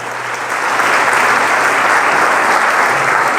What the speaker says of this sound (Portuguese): Então aplauda o Senhor, você que quer.